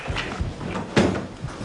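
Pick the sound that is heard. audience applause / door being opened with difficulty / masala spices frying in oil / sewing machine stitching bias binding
door being opened with difficulty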